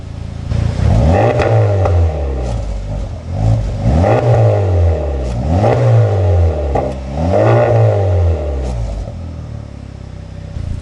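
A Honda Civic Type R (FL5) engine revs repeatedly through a loud Magnaflow SPEQ exhaust, four rising-and-falling blips close up, settling back toward idle between each.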